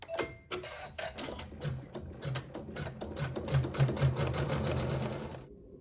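An embroidery machine stitches quilting through two layers of fabric with coordinating thread, a steady rapid mechanical clatter running close and loud throughout before stopping abruptly near the end.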